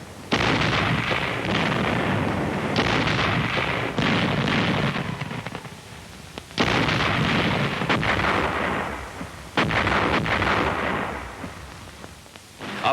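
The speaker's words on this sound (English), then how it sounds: "Up ahead, the infantry watched the smoke and bursts of the barrage." An artillery barrage of bursting shells in a wartime setting against Japanese positions: heavy, sustained rumbling blasts that roll in overlapping waves, loud and dense with brief dips between volleys.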